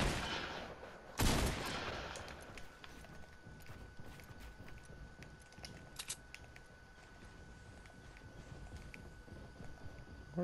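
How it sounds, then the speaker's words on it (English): Gunfire in the video game Fortnite: one loud sharp blast early on, then scattered fainter distant shots and mechanical clicks over a low background. "somebody shooting"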